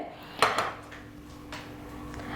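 A Prestige pot and its lid handled: a couple of close metallic clanks near the start, then a fainter knock, over quiet room noise.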